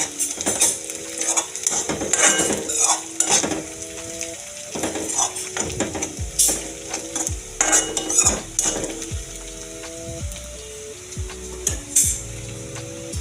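Shallots sautéed with turmeric are stirred in a pan, a metal spoon clinking and scraping against the pan in irregular bursts over a soft sizzle, close up and without talk.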